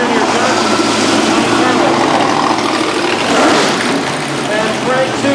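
Classic race cars, including a Shelby GT350, drive past in a race car parade at a concours d'elegance, their engines roaring loudly and continuously close by, while a commentator speaks over the noise.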